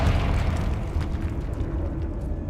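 The Confringo blasting spell explodes in Hogwarts Legacy, a deep, rumbling burst with a muffled boom that fills the whole moment and dies away slowly, with no voices over it.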